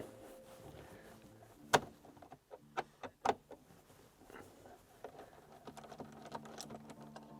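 A driver loosens a bolt on a nav mount in a 2019-or-later Mercedes Sprinter van, producing a few sharp clicks and ticks followed by softer rattling, all close and fairly quiet with no talking.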